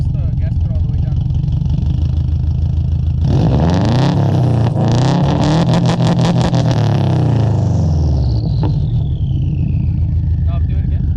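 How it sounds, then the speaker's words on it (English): A Subaru WRX fitted with an Agency Power header idles, then revs hard as the gas pedal is floored, a loud rising roar that holds and falls back to idle, with voices heard nearby. "press the gas pedal all the way down"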